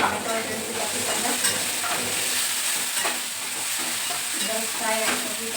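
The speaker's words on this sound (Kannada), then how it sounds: "ಫ್ರೈ ಆಗ್ತದೆ ಈ ಥರ" Chopped tomatoes frying in a pan for brinjal palya, giving a steady, close, loud sizzle with occasional light stirring clicks throughout.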